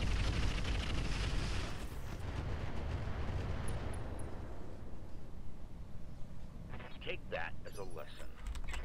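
An incendiary artillery barrage lands in the Roguetech video game. A heavy, rumbling blast roars for several seconds and then trails off into scattered mechanical clatter.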